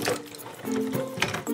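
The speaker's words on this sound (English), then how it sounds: "Ew, it's fizzing. It's like a bath bomb of dirt." A dig-it gemstone bar, a squishy block of packed dirt holding gems, fizzing in water like a bath bomb; a soft watery bubbling and trickle runs steadily at close range, with faint tonal hum underneath.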